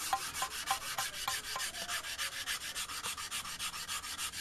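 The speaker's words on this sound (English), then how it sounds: "using very fine sandpaper, sometimes up to 2000 grit" Very fine sandpaper, up to 2000 grit, wet-sands a finished Shona stone sculpture in quick, even back-and-forth strokes, a close, continuous rhythmic rasping heard alone.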